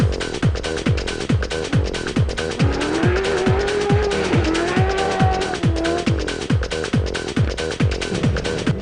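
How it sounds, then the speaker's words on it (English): A racing V8 in a Mustang-powered Ford Ranger race truck on a qualifying loop at the Lichtenburg 250 rally snarls through repeated quick gear changes, loud and close, with rising revs and rhythmic shifts throughout. "The sound of a racing V8 is something to hear."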